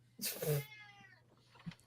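A cat meows loudly to be fed, one long drawn-out yowl up close, followed by a fainter short sound.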